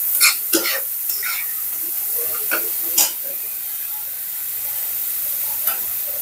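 Spices for a curry fry in a pan with a low sizzling hiss, broken by a few sharp crackles and spatters, faint and steady throughout.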